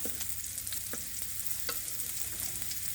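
An egg frying with noodles in a pan gives a steady soft sizzle, with a few light stirring clicks, fairly quiet and close, with no talk.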